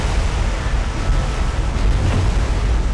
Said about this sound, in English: we had another magazine explosion